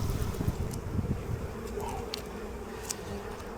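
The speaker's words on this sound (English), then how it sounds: "I'm gonna shake the bees off first." Honeybees from a sick hive buzz close to the microphone as they are shaken off a frame, giving a low, continuous droning hum with a few sharper buzzes passing near.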